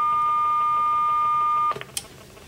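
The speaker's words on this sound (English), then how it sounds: "we can control the star and hash relays using the DTMF keypad on the phone" Phone keypad DTMF tones sent to a twin-output GSM relay board for roller shutters and garage doors: a long steady beep, then a few short tone bursts in quick succession, fairly clear with no talking.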